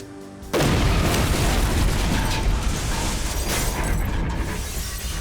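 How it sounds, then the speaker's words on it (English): A massive bomb blast at the World Trade Center tower erupts suddenly after a brief lull, a loud, broad roar that fills everything and stays dense and rumbling as debris crashes, then slowly eases. "The explosion hit the wall of the tower with a massive force"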